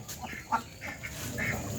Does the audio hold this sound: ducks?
yes